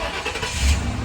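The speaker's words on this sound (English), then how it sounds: "let's see if this one will start up real quick" A Ford Crown Victoria police car with about 151,000 miles cranks and catches at an auction, its engine turning over loud and close in a short burst with no talk.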